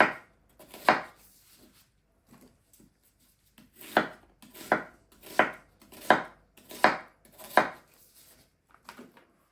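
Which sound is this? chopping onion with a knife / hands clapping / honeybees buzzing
chopping onion with a knife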